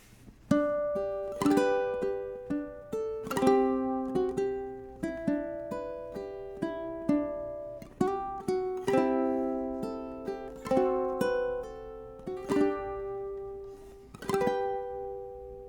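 A plucked ukulele plays the bright melody of the traditional Hawaiian song Aloha 'Oe in single notes and short chords, each ringing and decaying at a steady, moderate pace.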